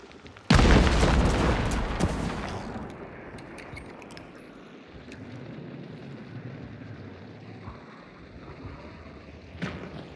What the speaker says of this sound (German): Eine Explosion.